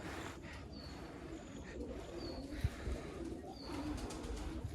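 Large female pigeons coo softly and repeatedly in a loft during feather plucking, with thin bird whistles and faint handling noise.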